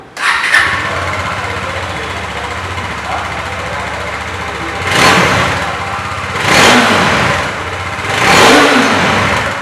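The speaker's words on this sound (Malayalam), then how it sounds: "എക്സോസ്റ്റ് ഡിസൈൻ അത്ര പോരെങ്കിലും നല്ല കിടുവായിട്ടുള്ള സൗണ്ടാണ് കേട്ടോ." Bajaj Dominar 400 motorcycle exhaust, deep and bassy, idling steadily then blipped in three distinct revs that swell and fall back, close by with no talking over it.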